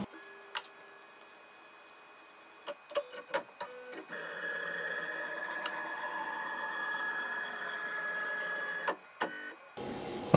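An Onefinity CNC router homing before surfacing its spoilboard: a steady stepper-motor whine with a sustained tone holds for several seconds, framed by short clicks and clunks as the axes start and stop.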